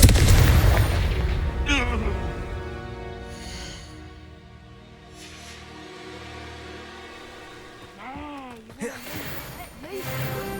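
Confringo fire spells in the Hogwarts Legacy video game erupt in a heavy booming blast at the start, followed by fading rumble, layered musical tones and a voiced spell cry.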